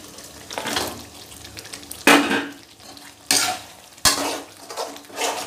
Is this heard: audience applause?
no